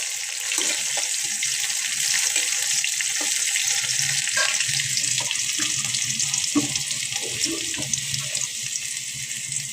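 Steady hissing sizzle of chili frying in hot oil, with occasional soft clinks and stirring noises throughout.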